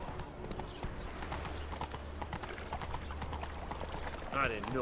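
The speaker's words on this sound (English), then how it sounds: "let's make our way on horseback into the free city" Horse hooves clip-clop steadily at a riding pace in The Witcher 3, with Geralt on horseback heading into the free city of Novigrad, under a continuous bed of game ambience, with a brief whinny-like sweep near the end.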